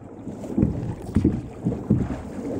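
A racing crew rows a boat in a steady rhythm, with three evenly spaced splashing strokes close by, set against wind noise on the water.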